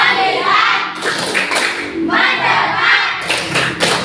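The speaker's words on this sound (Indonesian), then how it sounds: "Saya akan berikan dulu tepuk fokus." Classroom 'tepuk fokus' focus clapping, students clapping hands together in a rhythmic pattern with thuds, loud and close, filling the whole stretch with brief gaps between bursts.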